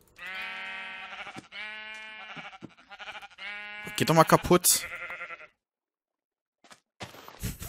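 A black sheep in the video game Minecraft bleats several times in a row, loud and close, followed by someone speaking German over game sounds.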